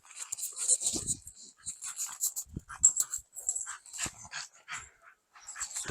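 A dog at a village house up for sale in Ukraine whines and yips in short, high, uneven bursts, with occasional soft thumps and shuffling nearby and no talk.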